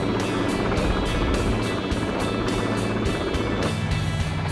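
Helicopters fly high overhead, close and loud, with a rhythmic, steady rotor chop about every third of a second over a continuous engine roar.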